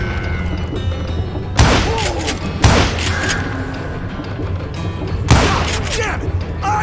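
Gunfire in the Western shooter game Call of Juarez: Gunslinger, three loud sharp shots with echoing tails spaced a second or two apart over a rumbling gunfight background, with voices shouting.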